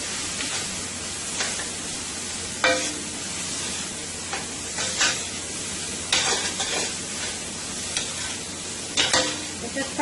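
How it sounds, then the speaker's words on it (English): Guyanese chow mein stir-frying in a pan with onion powder and garlic powder, a steady soft sizzle running throughout with occasional louder scrapes and clatters of stirring. "It's just frying up nicely here."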